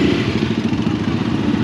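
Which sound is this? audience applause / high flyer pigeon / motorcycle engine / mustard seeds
motorcycle engine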